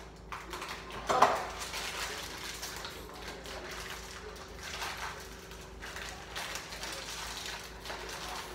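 Cooking pans are handled and switched in a home kitchen. There is one sharp metallic clank early on, followed by scattered softer knocks and scrapes over a quiet background.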